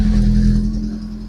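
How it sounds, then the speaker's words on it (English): A Rover 25 GTI hot hatch engine idling loud and close after starting, a low steady rumble that eases slightly, with no speech. "Just going to turn the radio down before I start the car."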